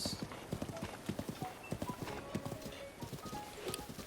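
Steady clip-clop of horse hooves at a brisk, even gait in the video game The Legend of Zelda: Breath of the Wild, moderately close, with faint background ambience and no speech.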